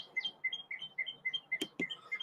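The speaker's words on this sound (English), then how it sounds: "I think there's several birds hanging out." Small birds chirp in a backyard near a seed feeder, a quick regular series of high, short tweets repeating about every quarter second, faint and somewhat distant, with two brief knocks toward the end.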